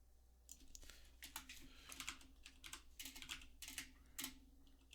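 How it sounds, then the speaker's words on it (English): Quick, uneven bursts of typing on a computer keyboard with clustered key clicks and short pauses, fairly close but soft, over a low steady hum with no voices. "we'll also type this in real quick"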